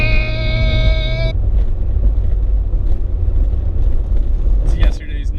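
A VW 16V engine fitted with bike carburettors runs with a loud, steady low rumble under wind noise, briefly joined at the start by a high whining tone.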